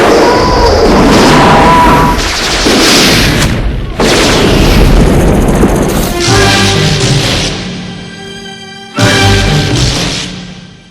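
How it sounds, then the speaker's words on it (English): A massive, deafening explosion in a Rambo prequel film scene: heavy booming blasts repeat across the span with rumbling tails, ending in a sharp final burst that dies away, with music tones beneath. "Upon contact, a massive explosion is heard, almost deafening."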